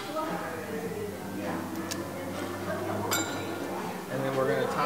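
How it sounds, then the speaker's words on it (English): Bitters are dashed into a mixing glass of whiskey, with a few bright glass clinks and ticks over a low background hum, while a person talks quietly. "Going to add a few dashes of some old fashioned bitters."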